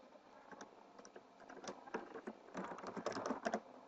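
Soft, rapid keystrokes on a computer keyboard while code is typed in C#, the clicks coming in quick irregular runs that grow busier toward the end, close and fairly quiet.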